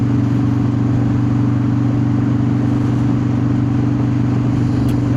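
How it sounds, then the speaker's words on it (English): A car with a newly installed underdrive pulley drives along steadily, its engine holding a loud, even mid-range drone with no audible gear changes, close and continuous with no talking. "I like rolling through the gears."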